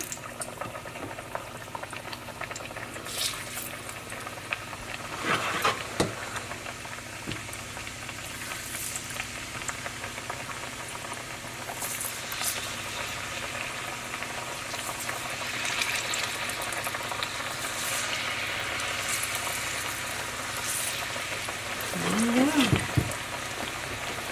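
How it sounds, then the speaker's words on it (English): Plantain slices fry in hot oil with a steady, dense sizzle and bubbling that runs throughout, broken by occasional clinks and crackles, and a brief squeaky scrape near the end. "so we are going to dip this in hot oil"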